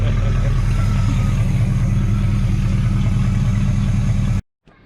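Chevrolet Camaro with a 305 V8, running after six years sitting unstarted, gives a loud, steady, rumbling idle with a rhythmic low-end lope, close up, before it abruptly cuts out near the end.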